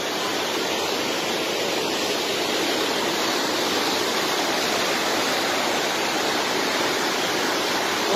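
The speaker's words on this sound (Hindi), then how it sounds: "पानी बहुत बड़ा है, वो पानी बहुत हैवी है। ये प्लोबो नदी है" Heavy river water rushes in a steady, loud, broadband roar close at hand, unbroken across the whole stretch with no voices over it.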